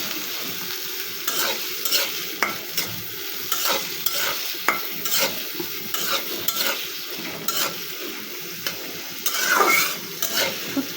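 Garlic and onions frying in oil in a wok, a continuous sizzle under repeated scraping strokes of a spatula in an uneven stirring rhythm. No voices.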